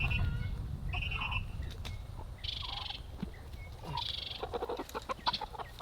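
American breed hens clucking inside a coop, several short nasal clucks and squawks from a few birds at close range, with rustling and scratching in between.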